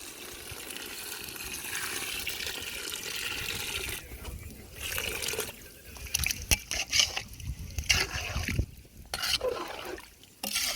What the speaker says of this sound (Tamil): நம்ம கறி இன்னும் கொஞ்சம் லைட்டாக ஆகிறதுக்காக தண்ணி சேர்த்துக்கிறோம்